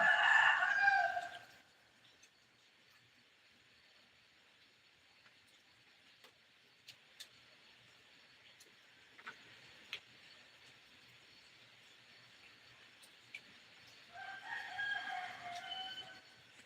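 A rooster crows loudly near at the start, then after a long quiet stretch of faint clicks and low hum crows again toward the end.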